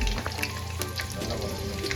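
Onions fry in a pan while a Chettinad chicken dish is being cooked. The sizzle is short, soft and crackling, with faint clatter and no voices.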